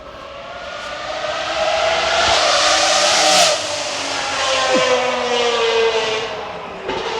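Powerful rally car and supercar engines roar and whine past at the Goodwood Festival of Speed, one rising to a loud peak midway before fading, with a steady mechanical drone continuing alone.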